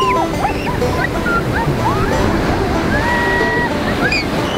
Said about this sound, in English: here at the beach